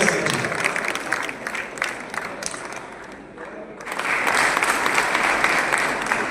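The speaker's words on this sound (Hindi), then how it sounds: "जोरदार तालियों के साथ स्वागत करें श्री सिंह जी" An audience at a Lucknow civic function marking Ahilyabai Holkar's birth anniversary welcomes a speaker with applause that dips briefly midway, then swells back into a fuller, louder round of clapping.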